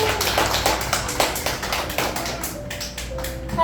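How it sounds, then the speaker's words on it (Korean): A small live audience at a Daejeon community radio event claps for a nervous guest, with sharp, fairly close hand claps in a quick uneven patter and a faint sustained tone near the end. "박수 한번 부탁드려요"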